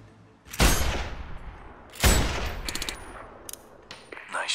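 Two heavy sniper rifle shots boom in Sniper Ghost Warrior 2, each a loud close blast with a long decaying tail, followed by a few short metallic clicks and faint game effects.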